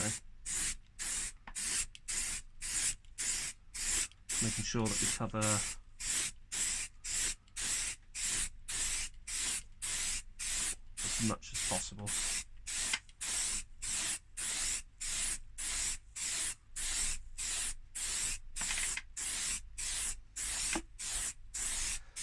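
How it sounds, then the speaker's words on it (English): Rapid bursts of aerosol spray paint hiss in a steady on-off rhythm, close by, on a Nissan Almera N16 wheel trim, while someone talks quietly over them. "we'll go for another west to east spray"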